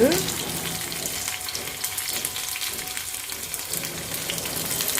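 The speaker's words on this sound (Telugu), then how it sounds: "ఉల్లిపాయ కట్ వేస్తున్నాను ఇట్లా డైరెక్ట్గా అది కూడా మంచిగా వేగితే బాగుంటుంది టేస్ట్" Onions frying in a pan, a steady broadband sizzle that holds at moderate loudness throughout with faint crackle and no talk over it.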